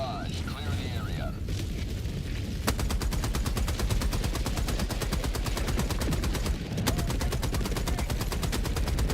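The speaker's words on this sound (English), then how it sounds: "Requesting orbital. Firing orbital barrage. Clear the area." Orbital barrage explosions in Helldivers 2, a rapid, steady stream of sharp booming blasts pounding continuously and loudly, with a couple of heavier impacts standing out, preceded by a moment of game voice chatter.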